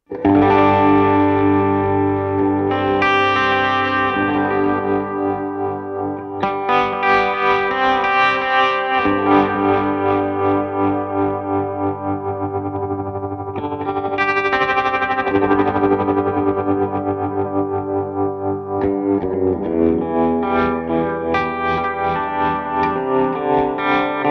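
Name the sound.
guitar with ramping tremolo pedal effect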